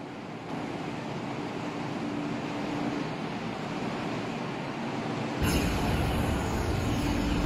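MTR East Rail Line MLR train running past platform 2 at Kowloon Tong station in the Roblox game, a steady rumbling roar of passing carriages that grows louder and fuller toward the end.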